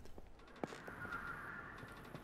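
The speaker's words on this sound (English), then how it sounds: "here's going to be the sound for, yeah, bird calls" Bird calls in the Botany Manor game: a few faint, raspy caws and a thin sustained call over quiet background, brief and distant-sounding.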